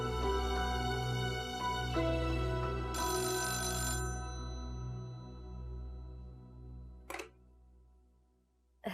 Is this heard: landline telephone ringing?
yes